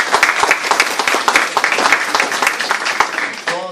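Audience at a trade union congress applauding, dense continuous clapping from a crowd across the whole span, with a voice starting to speak at the very end.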